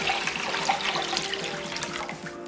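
Water poured into a cooking pot for anchovy broth, a steady close splashing rush that tapers off near the end.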